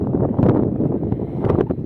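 Strong wind at a sunset viewpoint buffets the microphone with a loud, continuous low roar and rumble, gusting unevenly throughout without speech.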